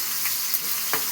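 Onions, seasoning spices and turmeric fry in a pan while being stirred. A steady, close hiss of sizzling oil fills the clip, broken by a few soft scraping stirs.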